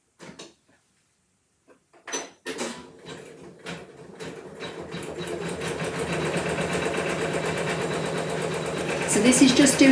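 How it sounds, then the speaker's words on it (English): Embroidery machine sewing an appliqué tack-down zigzag stitch for an in-the-hoop wall hanging: after a few scattered clicks and knocks, a rapid mechanical stitching chatter builds up and runs steadily and closely to the end, with a voice heard over it. "So this is just doing the tack down stitch, and this is a zigzag design."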